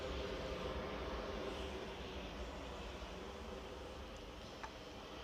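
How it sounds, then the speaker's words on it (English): An Airbus A380 taxis at Manchester Airport, heard as a steady, distant low engine rumble and hiss that fades slightly over a few seconds, with no talk. "There in the distance is the A380 starting to make its way out."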